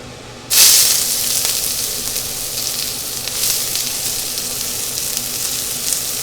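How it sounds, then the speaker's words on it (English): Onion hits hot sesame oil in a wok, setting off a sudden loud sizzle that settles into a steady, close frying hiss with faint crackles. "A little sesame oil. And we're gonna start with the onion."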